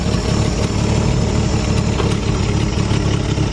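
A 1956 Chevy engine, not driven in over 20 years, runs and idles loudly close by, a steady, dense rumble with no pauses and no voices.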